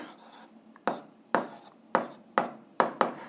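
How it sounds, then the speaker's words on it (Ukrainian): Handwriting with a pen on paper while writing down an answer to an algebra exercise: rhythmic strokes and taps, about six sharp scratchy bursts at a steady pace, close and moderately loud, no talking. "Ну що ж, записуємо відповідь, пишемо відповідь."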